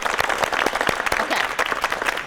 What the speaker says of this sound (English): so you get applause right now just for that